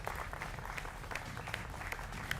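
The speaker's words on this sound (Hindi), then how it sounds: "मेरे युवा मित्रों का जोरदार तालियों के साथ अभिनंदन है" Studio audience clapping on a Hindi television debate show, a steady mid-level wash of applause with faint rhythmic claps poking through a low rumble, no voices over it.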